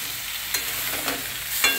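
Raw chickpeas and nuts frying in a pan, a steady soft sizzle broken by a few brief scraping stirs, close and fairly quiet, with no voices.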